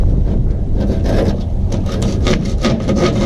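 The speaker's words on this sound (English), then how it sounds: "I'll have a go with wood saw, see how it goes" A hand wood saw cuts through a wooden door in steady back-and-forth strokes, a close, loud rasping with a regular rhythm and no talking.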